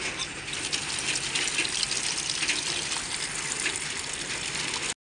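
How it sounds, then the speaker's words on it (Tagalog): Cassava being washed under a running tap, a steady close gush of water that continues unbroken for the whole stretch with no voices. "Tara, hugasan natin mga idol"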